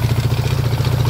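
An overhauled Honda TMX155 motorcycle engine, mounted on an unsecured holder, runs at a steady idle with a low throbbing hum and light mechanical clatter, close and loud with no voices.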